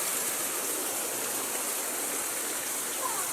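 Rainwater from a heavy downpour flows into a house, pouring continuously, loud and close, a broad hiss with no pauses.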